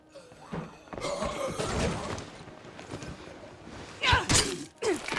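A zombie breaking through a front door in State of Decay 2, heard as a series of heavy thuds and crashing impacts, the loudest bursts near the end, over a busy game background.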